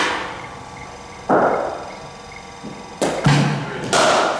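A cricket bat striking the ball during a net session on cover and straight drives gives several sharp, solid knocks spaced a second or so apart, close by, with a voice talking between them.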